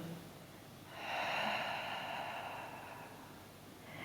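A single slow, audible breath during a Pilates exercise swells to an airy peak and fades gently, close and alone with no talking.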